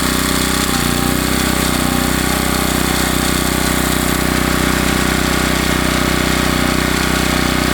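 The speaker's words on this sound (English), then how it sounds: "I'm gonna switch it to low real quick so you can hear how it pulls on a little bit" A WEN portable generator engine runs close and loud under load with a constant, buzzing drone. The tone shifts slightly near the start as the load changes, then holds steady.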